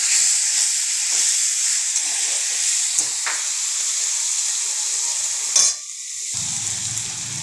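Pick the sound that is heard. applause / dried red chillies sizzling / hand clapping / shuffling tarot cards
dried red chillies sizzling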